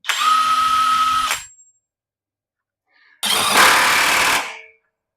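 A cordless impact wrench on its high setting runs in two short bursts of about a second each, separated by a pause of silence, close and loud.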